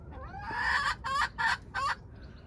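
A hen clucks loudly and insistently in a spring garden: one long squawking call followed by three sharp, separate bursts, close by and alone with no talk.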